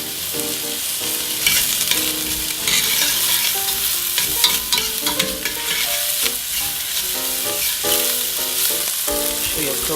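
Peppers and onions sizzle and crackle in a hot pan, a loud, steady frying hiss with scattered pops and the clatter of stirring, no one talking.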